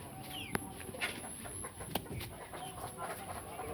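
A rooster clucks in short, scattered calls close by on a farm, with sharp clicks and faint outdoor bird sounds, including pigeons, in the background.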